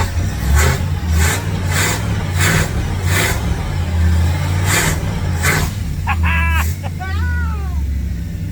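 A Lincoln Continental engine fires and revs in rhythmic bursts over a low rumble. Near the end, a few squeaky, rising-and-falling whines cut through the running motor.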